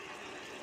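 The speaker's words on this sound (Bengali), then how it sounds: "এবার হলো গরম জল দিয়ে দেবো এর ভিতরে।" Hot water poured into meat curry in a cooking pot, a brief steady splashing pour heard up close without talk.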